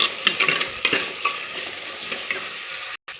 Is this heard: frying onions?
yes